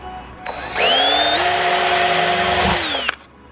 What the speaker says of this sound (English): here we go, drilling carbon